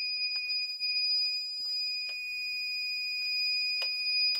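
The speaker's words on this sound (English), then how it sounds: "we have a really loud, annoying alarm" Piercing electronic alarm from a Pytes V5 heated 48V server rack battery, a steady loud high-pitched tone held throughout with brief clicks and faint speech fragments around it.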